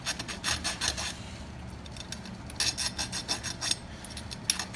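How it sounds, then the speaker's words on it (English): A hand file works a slight chamfer along the edges of a small metal key for an antique roll-top desk: close, rhythmic rasping strokes in two quick runs, each stroke a short bright scrape. "we're going to go ahead and just chamfer, slight chamfer on each edge"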